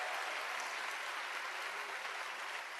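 Congregation applause during a pastor's sermon at a 2016 Christian soldiers' revival rally in Korea: a thick, continuous wash of many hands clapping, steady and moderately distant, with no voices over it.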